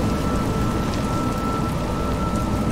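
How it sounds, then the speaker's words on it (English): Steady, dense rain falls in the video game A Juggler's Tale, a loud, continuous wash of drops with a low rumble underneath and no pauses. "It's raining."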